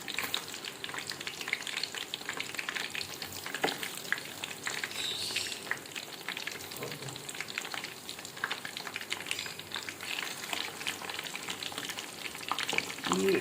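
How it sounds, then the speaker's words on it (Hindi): Stuffed karela, bitter gourds filled with keema, frying in oil over a low-medium flame, giving a soft, even crackling sizzle with scattered pops that holds steady from start to finish. "लो टू मीडियम फ्लेम आपने इसको फ्राई करना है, ज़्यादा हाई पे"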